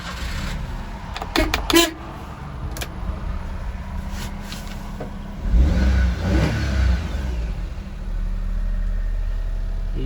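A 2000 Daihatsu Hijet S210P kei truck with EFI engine and automatic transmission starts, then idles steadily and gets a couple of revs, the engine noise loud and close throughout.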